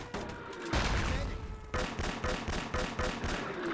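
Luger pistol fire in a Wolfenstein: Enemy Territory 6v6 LAN match: a dense, loud clatter of overlapping gunshots that pauses briefly, then resumes in quick repeated cracks.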